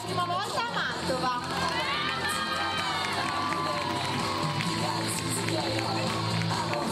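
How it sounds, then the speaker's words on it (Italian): A lively convention crowd cheers and claps for an 11-year-old cosplayer in Mantova, a dense continuous roar with children shouting, while an announcer talks over it. "Un grosso applauso per Carlo, che ha solo 11 anni"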